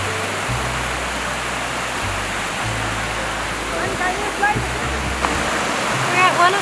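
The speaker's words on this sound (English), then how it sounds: "We're at one of the waterfalls." Rushing water from a waterfall seen on a hike during a cruise stop near Skjolden, a steady broadband roar filling the scene, with low hum and a few brief voices and small noises near the end.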